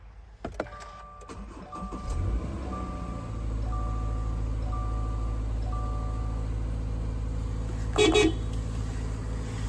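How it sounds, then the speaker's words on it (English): A 2023 Subaru Forester Premium started by its dash push-button: a brief crank after a few soft interior chimes, then the engine settles into a steady low idle, with a short burst of beeps near the end. "just have the key fob within the interior of the vehicle and hit the dash mounted button to go"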